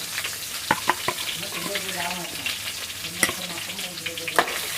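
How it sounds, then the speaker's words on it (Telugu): Stuffed brinjal curry sizzles and fries in a pan over a medium flame, with a spoon stirring through it and scraping the pan in close, irregular clinks above the steady crackle. "ఇది మంచిగా ఫ్రై అయిపోయిన తర్వాత మీడియం ఫ్లేమ్లో పెట్టేసి మిగిలిన స్టఫింగ్ని కూడా దీంట్లో వేసేసుకుంటున్నాను"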